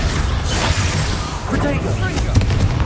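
The Confringo explosive spell is cast in a video game, giving dense, loud, booming blasts and rumbling crackle that fill the moment, with a voice over it.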